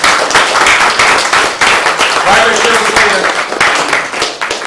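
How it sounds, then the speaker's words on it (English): Audience applause at a film premiere Q&A, a dense burst of clapping that fills the room for several seconds, loud and close. "Let's give Josh a round of applause for"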